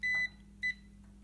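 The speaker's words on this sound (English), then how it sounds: "So that's actually a continuity check there, it beeps." A multimeter's continuity tester beeps twice while diagnosing a broken immersion heater element: a clear, steady electronic tone, the first lasting about a quarter second and the second shorter, over a low background hum.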